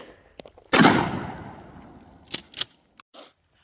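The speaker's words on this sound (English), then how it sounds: "I wonder what buckshot will do." A single loud shotgun blast fires buckshot at an ice block outdoors, a sharp crack followed by a long decaying echo, then a few quieter clicks and knocks afterward.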